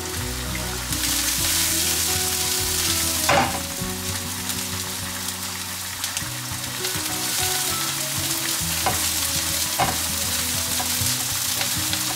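Vegetables sizzle and fry steadily in a pan right after fish was cooked, making a close, constant crackle. A few clatters from stirring or utensils break in along the way. No voices are heard.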